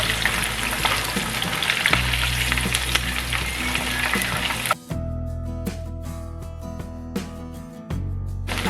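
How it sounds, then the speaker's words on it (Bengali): Cornflour-coated beef fries in hot oil with a loud, steady, close sizzle that carries on without a break. The crackle dips briefly around the midpoint, as though pieces are lifted out or stirred, then comes back just as strong. "এগুলিকে তুলে নিয়ে বাকি হাফগুলো ভেজে নেব।"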